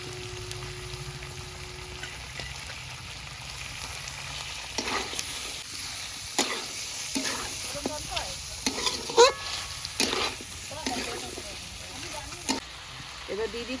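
Cumin paste and onion go into a hot pot for duck curry, giving a steady sizzle with several sharp clatters and scrapes of stirring partway through.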